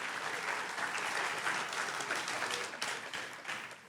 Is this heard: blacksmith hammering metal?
no